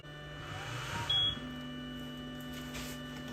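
An xTool M1 laser engraver hums steadily just after power-on, a constant electrical drone with a short beep partway through, and no talking.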